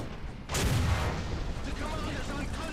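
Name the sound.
gunfire hitting the player's 3 inch Gun Carrier in War Thunder video game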